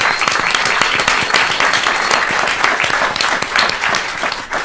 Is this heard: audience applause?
yes